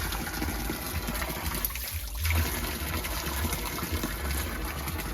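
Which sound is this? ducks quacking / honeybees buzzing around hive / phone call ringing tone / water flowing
water flowing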